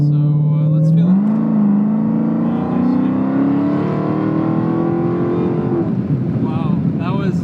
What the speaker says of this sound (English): I'm gonna go like partial throttle right here just to get a feel.